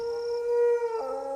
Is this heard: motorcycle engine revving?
no